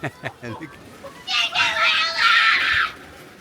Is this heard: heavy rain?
no